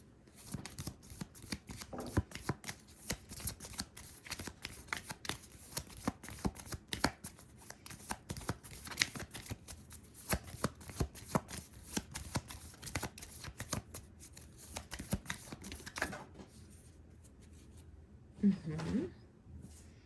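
A tarot deck shuffled at length by hand, with dense crisp riffles and card slaps close up, continuing steadily for many seconds before easing off near the end, with a brief voice toward the close.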